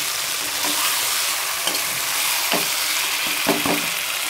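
Desi chicken curry cooks in oil while a spatula stirs it, a steady loud sizzle with repeated scraping strokes against the bottom of the pan.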